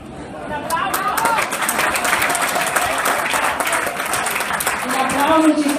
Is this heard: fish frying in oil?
no